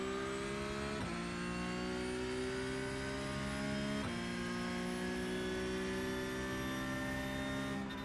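A racing sim's car engine holds a steady harmonic drone, then pitch climbs smoothly after shift points at about one and four seconds as the car launches and accelerates. No talk is heard.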